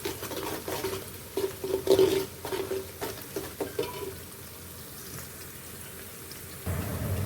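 Onions browning in oil for chicken pulao, stirred with a spoon: a steady soft sizzle under a run of scraping, clattering stirring strokes, the stirring easing off midway while the frying hiss continues, close and moderately loud.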